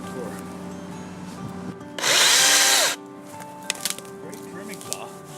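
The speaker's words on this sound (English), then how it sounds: "This is your actual first time using a battery chainsaw?" A DeWalt Flexvolt DCCS670X1 battery chainsaw cuts wood in a single loud, close burst about one second long, then winds down into quieter handling noises.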